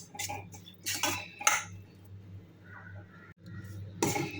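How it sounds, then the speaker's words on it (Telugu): Cut potatoes being mixed with salt and turmeric in a pan, giving a few sharp spoon-on-metal clinks and scrapes spaced irregularly over a low steady hum, close and fairly quiet. "కట్ చేసుకున్న ఆలులను ఇందులో వేసుకొని ఉప్పు, పసుపు వీటన్నింటిని ఒకసారి బాగా కలుపుకోవాలి"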